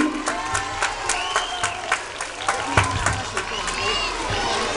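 Audience applause at a children's language festival, lively uneven clapping mixed with high children's voices and shouts, close and fairly loud throughout the short burst.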